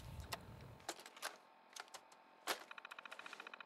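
Fallout 4 terminal loading a holotape, sparse mechanical clicks and clacks followed by a fast, regular run of typewriter-like text ticks, quiet and isolated.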